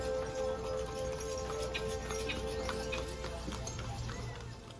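Hooves of small horses pulling passenger carts clip-clop steadily on a hard street on Gili Trawangan, amid busy outdoor background noise, with a faint murmur of voices.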